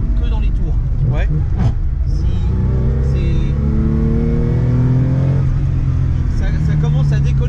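Porsche 911 with a 2-litre 2S engine, driven hard, revving through the upper rev range, its pitch climbing and dropping in repeated surges, with people talking over the engine throughout.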